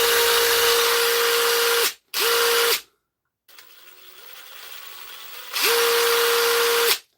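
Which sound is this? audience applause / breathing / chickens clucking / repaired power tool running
repaired power tool running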